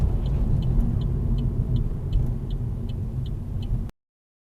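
Oncoming cars stream past a junction at traffic lights, with a loud, continuous road rumble and tyre roar from several vehicles close by, plus a faint rhythmic ticking, before the sound cuts off abruptly.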